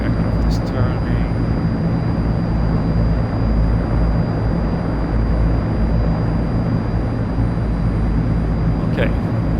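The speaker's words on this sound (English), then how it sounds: "The aircraft is turning." Steady, loud drone of a Transall C-160 twin-turboprop transport's engines in flight in the simulator MSFS 2024, continuous and unchanging throughout, with a brief faint click near the start and end.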